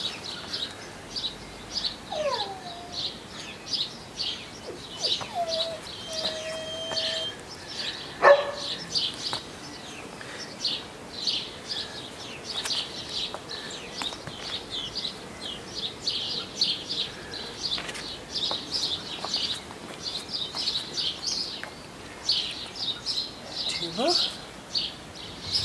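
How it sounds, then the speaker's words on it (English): Birds chirp and sing steadily through an early-morning outdoor scene, many small calls close by and layered; a dog barks now and then, with guinea pigs nearby and a few brief whistle-like calls. "we're getting joined by birds, guinea pigs,"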